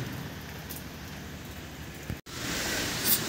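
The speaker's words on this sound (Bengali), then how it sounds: "বৃষ্টি হইতেছে, বৃষ্টি কমতেছে না" Rain falls steadily outside, a faint, even hiss of drops with a brief cut partway through and slightly louder patter afterward.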